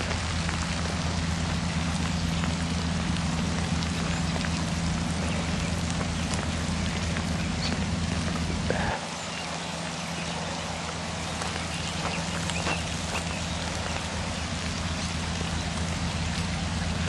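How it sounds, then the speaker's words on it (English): Freezing rain patters steadily and densely outdoors in the Town Branch watershed of Fayetteville, Arkansas, a constant fine hiss of drops with a low rumble that cuts out partway through. "Freezing rain."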